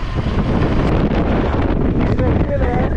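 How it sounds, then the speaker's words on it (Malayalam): Strong gusting wind at Siachen base camp, a high-altitude army camp, buffets the microphone with a loud, continuous roar across the whole stretch, and a faint thin whistle-like tone rises briefly near the end. "നല്ല കാറ്റുണ്ട്, ഒരു രക്ഷയില്ലാത്ത കാറ്റ്"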